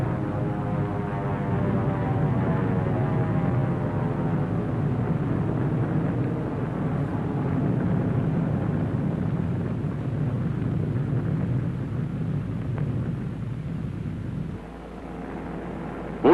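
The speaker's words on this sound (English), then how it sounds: "Here is one of the drone airplanes flying over the target fleet after the blast." A steady propeller drone of a drone airplane flying over a target fleet after a nuclear blast at Bikini fills the whole stretch, droning at constant strength before easing off slightly near the end.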